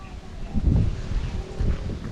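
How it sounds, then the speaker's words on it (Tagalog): Gusty typhoon wind buffets the microphone in low, rumbling bursts over a farm plot of corn and string beans, rising and falling over a couple of seconds. "Mahangin po dito ngayon sa amin, gawa po ng bagyong Hana."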